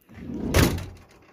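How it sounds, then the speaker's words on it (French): A van's sliding side door, just repaired with new lower rollers, rolls shut and ends in a single solid thud, close and fairly loud, with no talk over it. "La porte est de nouveau pleinement fonctionnelle."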